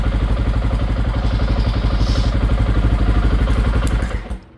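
A motorcycle idles nearby in a steady pulsing thump as it pulls in, then the engine cuts out and the sound dies away near the end.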